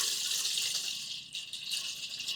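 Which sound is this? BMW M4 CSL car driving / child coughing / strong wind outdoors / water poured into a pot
water poured into a pot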